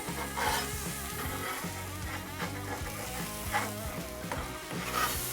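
Sturdy beveled spatula scraping a burger patty off a sizzling flat top, steady loud frying hiss with repeated close metallic scrapes and rhythmic scratching strokes throughout.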